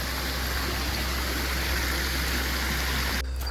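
Water streams steadily at a mountain campsite water point on Gunung Besar Hantu, a constant close rushing flow that cuts off abruptly near the end.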